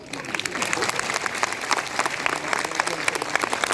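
Audience applause from a room full of people, a dense, steady roar of many hands clapping at once, sustained and fairly loud throughout with faint voices underneath.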